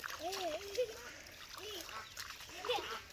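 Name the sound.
ducks being chased in water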